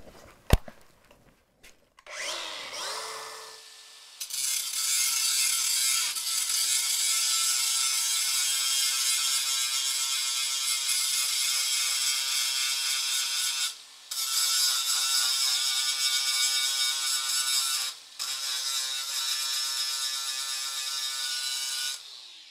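A Norton Quantum3 grinding disc on an angle grinder takes off a MIG weld: the motor spins up, then a loud, sustained harsh grinding runs with two brief interruptions.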